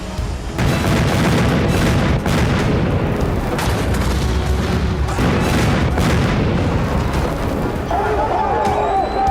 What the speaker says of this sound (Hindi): एक जोरदार धमाका हुआ